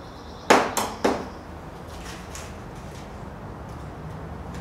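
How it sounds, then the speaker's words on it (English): A pot being filled with potting soil for starting seeds indoors: three sharp, close knocks land in quick succession near the start, then only a faint, steady low rustle follows with no talking. "Fill the pot with soil."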